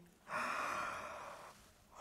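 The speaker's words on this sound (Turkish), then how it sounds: "kocaman bir esnemeydi" A big, breathy yawn, a single long exhale rising suddenly and fading over about a second and a half, close and alone.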